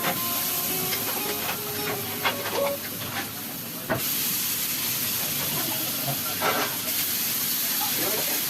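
Cumin seeds sizzle in hot butter in a pan, a continuous bright hiss and crackle with scattered sharp pops, close by and steady throughout.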